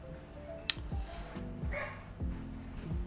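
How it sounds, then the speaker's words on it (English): A dog barks several times in a house, muffled and a little distant, under steady background noise during a card-listing live stream. "sorry if you hear my dog barking."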